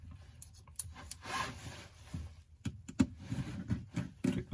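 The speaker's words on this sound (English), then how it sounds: "You get your Phillips head bit." A Phillips head bit works screws out of an iPhone 8, giving soft scraping and rubbing sounds with small clicks and taps in an uneven rhythm, close and quiet, no speech.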